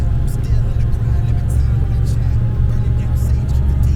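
A heavily loaded truck's engine labouring uphill on a mountain pass: a deep, loud, steady rumble from inside the cab, continuous throughout with no pauses.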